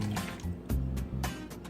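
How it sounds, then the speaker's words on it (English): Half a cup of water poured into a seitan mixture, a short liquid pour and splash heard close and fairly loud, with a couple of brief bursts. "And we'll also add about a half a cup of water."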